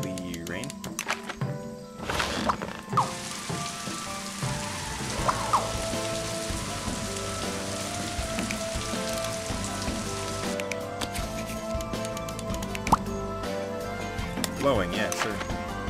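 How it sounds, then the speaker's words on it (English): Rain summoned in the video game Scribblenauts Unlimited, a steady broadband hiss of falling rain lasting several seconds over a soft musical game backdrop before fading out. "Heavenly rain."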